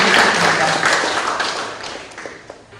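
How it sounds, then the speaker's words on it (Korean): Applause from a church congregation during a service, a broad wash of clapping that starts full and gradually thins and fades over a few seconds. "다시 한번 우리 박인석 집사님에게 뜨거운 박수로 감사를"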